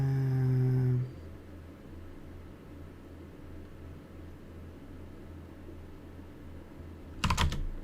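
Fast, close clacking of keys on a computer keyboard during coding work, a short dense burst of typing at the end after a quiet stretch of steady room hum, with no talking.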